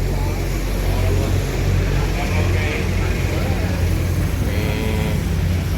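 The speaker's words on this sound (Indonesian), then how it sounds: "Ramai pokoknya bus pariwisata melintas di kota Palembang." Tourist buses pass along a city street in Palembang, sounding as a continuous loud rumble of diesel engines and traffic noise. Voices talk throughout over the low engine drone.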